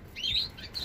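Birds at a nest in the countryside give rapid high-pitched chirps, a close, bright flurry of calls lasting under a second.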